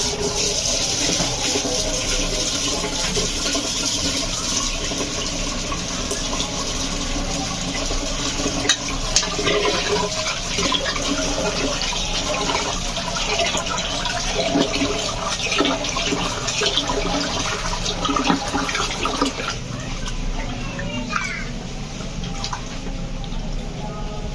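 Water runs steadily from a tap into a pot of lentils and rice in a home kitchen, a continuous splashing pour with small drips, loud and close, with someone talking over it at times.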